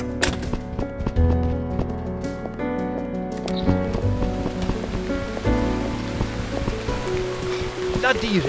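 Steady rain falls in the horror video game Burnhouse Lane, a continuous patter on surfaces running throughout with musical tones and scattered game sounds layered over it.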